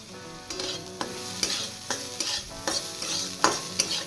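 Fish roe stirred with grated ginger in a hot pan, a series of rhythmic spoon scrapes about every half second over a light, steady sizzle.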